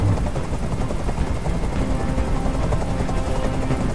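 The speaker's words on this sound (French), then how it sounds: "Fais dégager cet hélicoptère" A video game helicopter's rotor, from Detroit: Become Human, chops steadily and loudly overhead, a dense, continuous thudding roar with no voices.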